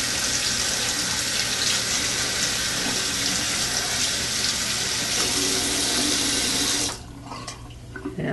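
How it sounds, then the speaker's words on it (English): A Motorola Defy Pro phone is rinsed under a running kitchen tap, giving a loud, steady gush of water that cuts off abruptly near the end, leaving faint drips and quiet room sound. "Just give it a little bit of a rinse."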